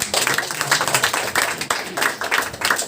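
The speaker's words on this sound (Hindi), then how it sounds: "तो आपके लिए जोरदार तालियां।" Audience at a Hindi-language church gathering clapping loudly, a dense, steady patter of many hands with rhythmic peaks, close and continuous with no talk over it.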